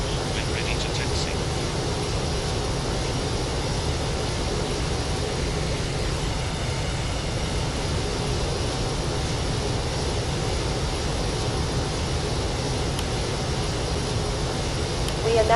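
Steady, loud engine roar inside a Boeing 747-400 cabin as the aircraft waits before takeoff, a continuous broadband drone with no break throughout.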